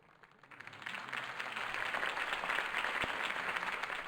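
In the Batman Telltale video game, a crowd applauds after Harvey Dent's campaign speech. The clapping rises from near silence in the first half-second into a steady, fairly distant wash.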